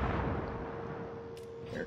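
Warship guns thunder in a naval battle video game involving the destroyer Halland, a deep rolling boom that swells and fades, with a couple of sharper distant cracks near the end.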